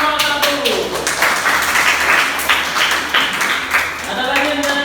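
A classroom of students applauds group 1, dense, lively clapping from many hands that rises and holds for several seconds over a murmur of voices.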